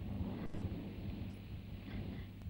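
Heavy rain pours down steadily through a dense, continuous wash with low rumbling underneath, at a constant loud level with no voices.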